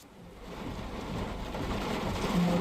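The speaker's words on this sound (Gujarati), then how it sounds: "શહેર અને ગ્રામ્યમાં ધોધમાર વરસાદ વરસ્યો છે" Heavy rain falls at night in Mahisagar district, Gujarat, a steady, rushing hiss with a deep rumbling undertone that grows slightly louder, with no voices.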